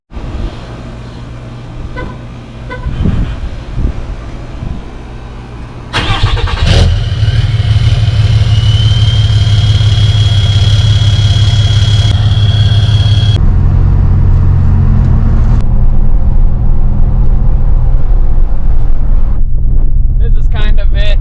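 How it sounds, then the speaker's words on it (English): A 6.7 Cummins diesel pickup with its factory exhaust cold-starts after a few seconds of quieter sounds, then settles into a loud, steady low idle with a droning whine, close to the microphone. "Cold start with the factory exhaust."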